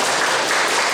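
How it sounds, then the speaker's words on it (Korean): Brief, dense applause from a congregation welcoming a visitor during a Sunday church service, a loud, steady burst of many hands clapping. "우리 박수로 환영하겠습니다"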